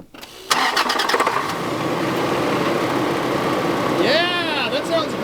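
A Toyota engine cranks and catches, then settles into a steady, loud idle with a brief chirping squeal near the end.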